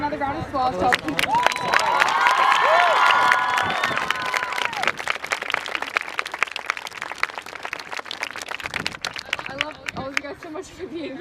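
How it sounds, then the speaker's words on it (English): At a student walkout rally, a crowd bursts into applause and cheering with whoops and shouts early on, then the clapping thins into scattered, sharp claps mixed with chatter and voices. "let's do just another round of applause"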